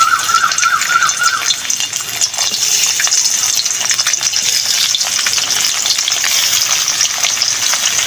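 Fish frying in a very hot wok as part of a mixed-fish curry, a loud, steady sizzle and crackle of oil that continues without pause, with a brief faint tone at the start.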